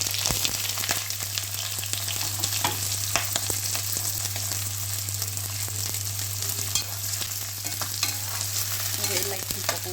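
Chopped chillies and onion fry in a pan for chicken gravy, a steady loud sizzle with scattered crackles and spatula scrapes throughout, no voices.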